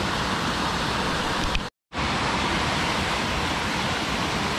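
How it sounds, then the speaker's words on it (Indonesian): Tibu Sampi waterfall in Gunung Salak village, Tabanan, Bali, a loud, close, unbroken roar of falling water that fills the whole clip, cut by one abrupt split-second dropout early on. "Jadi air terjunnya ada di depan kita itu ya"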